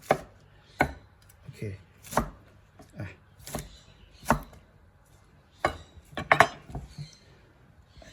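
A kitchen knife chops fresh vegetables for a quinoa salad on a cutting board, giving about a dozen crisp, close thuds in an uneven rhythm, a few in quick pairs, with no talking.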